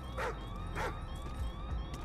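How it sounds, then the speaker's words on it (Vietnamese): A dog barks twice in the video game Call of Duty: Ghosts, mid-distance over a constant low rumble and a faint rising siren-like tone. "Chó này nó phải sủa tụi mình không vậy?"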